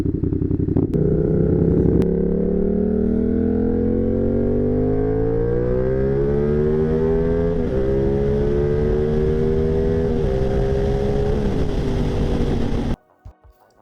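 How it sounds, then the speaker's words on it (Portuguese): Engine with uneven firing, combustions spaced 270 degrees then 450 degrees of crank rotation, giving a V8-like grunt; a loud, steady, close running note climbs in pitch as it revs for about thirteen seconds, then cuts off abruptly. "Suas combustões ocorrem em intervalos desiguais, mas bem espaçadas, com um espaçamento aí de 270 graus de rotação entre a primeira e a segunda combustão"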